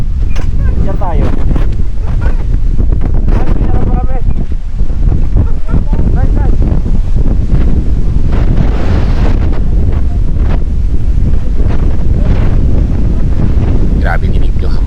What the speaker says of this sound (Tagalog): Grabe dinig yung hampas ng hangin.